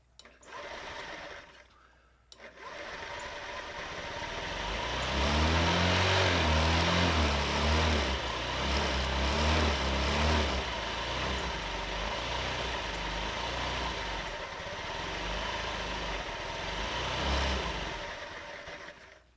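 The small engine of an old Honda scooter sputters briefly, then runs at a steady, buzzing idle with slight revving and wavering for a long stretch, close by.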